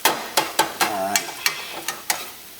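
A utensil stirring Chinese fried rice with a little soy sauce in a hot pan, making a series of close scraping, clacking strokes at an even rhythm, with a faint sizzle and no one talking.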